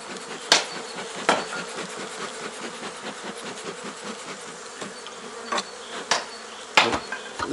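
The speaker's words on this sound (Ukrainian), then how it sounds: "Це рій прилетів." A swarm of honey bees at a Carpathian apiary hive, a dense, continuous buzzing close by, broken by several sharp knocks and taps.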